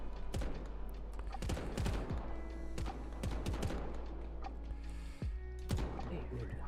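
Repeated sharp gunshots crack from a sniper rifle in the video game Warbound, scattered irregularly over a low steady rumble, with someone talking throughout.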